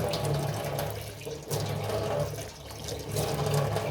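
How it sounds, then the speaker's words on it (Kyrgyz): Water gushing steadily from a kitchen tap opened all the way, a continuous, fairly loud rushing stream with slight swells in level and no voices. "Муну полный ачканда дагы болгону ушундай эле суу чыгат."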